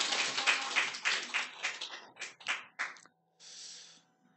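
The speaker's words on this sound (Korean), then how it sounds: "박수로 환영하겠습니다." A church congregation at a Friday prayer service claps in welcome, a brief burst of applause that thins into scattered claps before fading to quiet.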